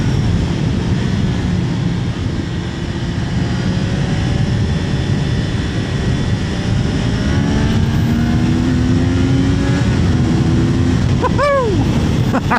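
A 2025 Triumph Daytona 660 triple-cylinder motorcycle engine revs under steady loud wind roar while riding, with rising and falling engine tones and a sharp rev sweep near the end.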